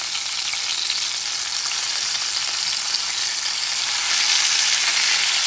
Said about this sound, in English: Then I'm going to let one side cook for about 5, maybe 6 minutes.